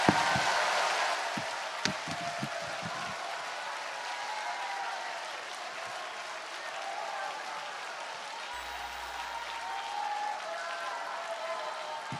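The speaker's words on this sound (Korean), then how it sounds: "다시 한번 뜨거운 박수 부탁합니다." A crowd at a patriotic political rally near Gwanghwamun applauds in a steady, rolling wash of clapping, loudest at the start and then settling into an even roar of many hands.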